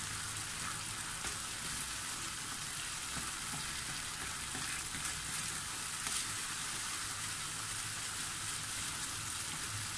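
Beef stir-frying in a hot pan, Chinese style, giving a steady close hiss and crackle of sizzling oil, even and unbroken throughout with no talk.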